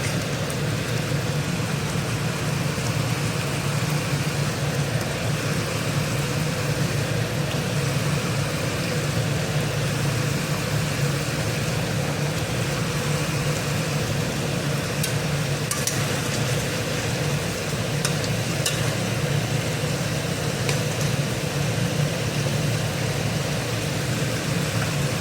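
Bata fish laid into hot, lightly fried mustard paste in a pan, giving a constant, even, hissing sizzle that runs unbroken at steady volume, with no voices.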